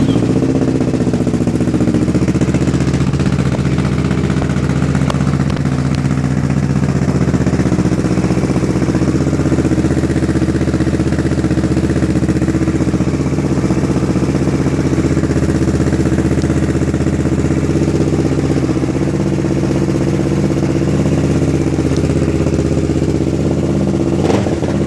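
Idle of a 2013 Kawasaki Ninja 650 fitted with a Two Brothers aluminum Black Series full exhaust, heard at night: a steady, close low-pitched rumble with a light mechanical clatter running evenly throughout, no talking.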